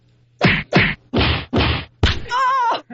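Fake punch sound effects from a cheesy kung fu style scene: five sharp, heavy thwacks in an uneven rhythm, the last one followed by a wavering groan or scream, loud and close.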